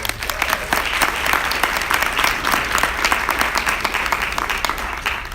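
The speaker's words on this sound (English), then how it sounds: "Give her another round of applause." Sustained audience applause at a celebration event honoring a dentist, dense steady clapping from a crowd lasting the full stretch with no talking over it.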